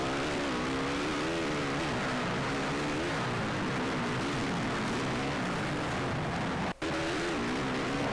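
Motocross bike engine in the MXGP video game at Valkenswaard in the Netherlands, a steady buzzing drone held at high revs throughout, with a brief dropout near the end.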